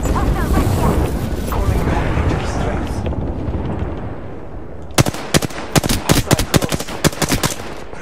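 Automatic gunfire in the video game Apex Legends: a dense, loud roar of shooting and explosions for about five seconds, then a clipped string of distinct sharp bursts, with tense game action throughout.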